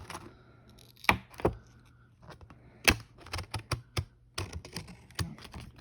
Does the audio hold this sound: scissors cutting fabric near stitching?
yes